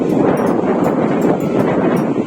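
Cool evening wind gusting steadily across Khanom beach in Nakhon Si Thammarat, Thailand, a loud continuous rushing roar buffeting the microphone throughout with slight swells.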